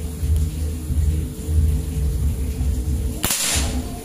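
A single sharp shot from a folding AK-style PCP air rifle rated at 4000 psi, fired at a target: one loud crack with a brief tail, set against steady low rumbling background noise from a nearby puppet show.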